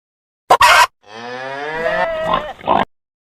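A water buffalo, or carabao, gives one long, loud, close moo, framed by short sharp knocks just before and a brief burst at the end.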